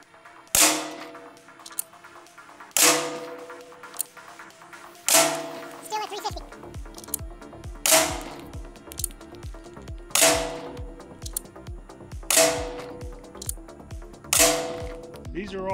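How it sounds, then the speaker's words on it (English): A Grimburg TYR less-lethal launcher running off a 9 cubic inch air tank fires seven sharp pneumatic shots at even intervals of about two seconds. Each shot is loud and close, with clicking and rattling between them. "These are all still usable shots, close to 30 joules by now."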